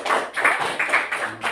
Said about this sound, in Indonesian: boleh dong kita sama-sama tepuk tangan